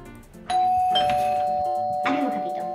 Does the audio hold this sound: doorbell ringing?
yes